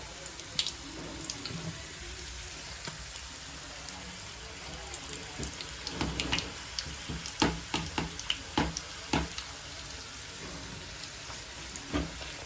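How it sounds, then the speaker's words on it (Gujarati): Leftover roti pieces fry in hot oil, giving a soft, steady sizzling hiss. Sharper crackles and pops cluster in the second half. "હવે આપણે રોટલીના કટકા અંદર નાખી દઈશું અને તળી લઈશું"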